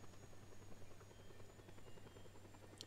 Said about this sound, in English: I can hear another helicopter.